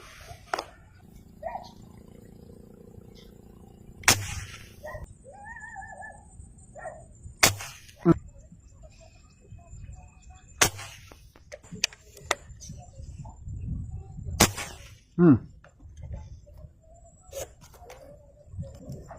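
Several sharp gunshots ring out at intervals during a hunting outing, loud and close, with bird calls and a dog whimpering in between.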